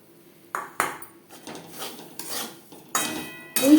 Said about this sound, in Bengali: এই পর্যায়ে দিয়ে দেব ড্রাই রোস্ট করে রাখা সুজি। 2-3 বারে মেশাতে থাকবো